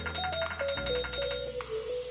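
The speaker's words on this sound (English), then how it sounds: "That's my alarm telling me to take my pill." A phone alarm set as a pill reminder plays a repeating electronic melody of short beeping notes, loud and steady, with no talking.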